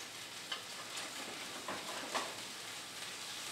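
Lamb sliders frying in a pan and being flipped: a faint, steady sizzle with a couple of soft clicks and taps from the turning, quiet and without voices.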